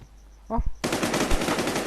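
Rapid automatic gunfire in the video game Warz, a loud close burst of fast repeated shots after a short spoken exclamation.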